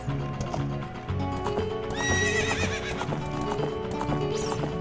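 Horse in The Legend of Zelda: Ocarina of Time gallops with steady rhythmic hoofbeats and gives a loud, rising whinny partway through, heard alone over in-game music and ambience.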